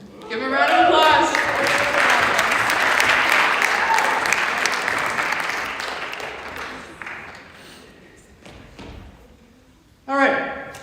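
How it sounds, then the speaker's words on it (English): A college variety show audience applauds loudly, clapping sustained for several seconds before fading, then a brief burst of noise near the end. "Give him a round of applause."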